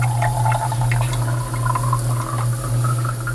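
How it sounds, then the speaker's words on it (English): Water from a well pours steadily into a sample cup for testing, a continuous close splashing and gurgling fill over a low hum. "First, Megan fills the sample cup"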